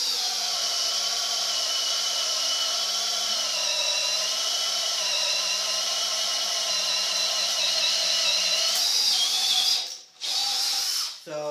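A cordless power drill on first speed whines steadily as it bores through wood, its pitch holding level, then cuts out briefly with a few short bursts near the end.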